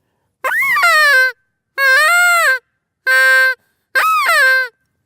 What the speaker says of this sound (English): This is a peacock call here, I believe.